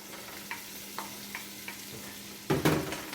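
Onions are tossed into hot butter and oil and sizzle faintly, with a few soft scrapes and then a louder burst as they hit the pan near the end, and nobody speaks.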